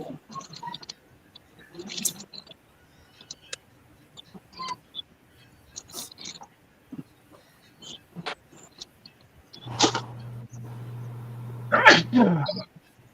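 A single loud sneeze bursts out near the end, after scattered clicks and taps with quiet gaps between them.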